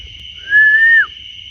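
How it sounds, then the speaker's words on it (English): One clear, steady whistle in the woods at night, about half a second long, drops in pitch at the end, set against a constant high insect drone in quiet night air. "I just heard a whistle."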